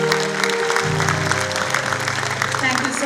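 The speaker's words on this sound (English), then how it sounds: "So parents, I would request you to give a huge round of applause for these achievers." Parents at a school annual function applaud student achievers with a sustained round of clapping that runs the whole time, mixed with voices and a background tone.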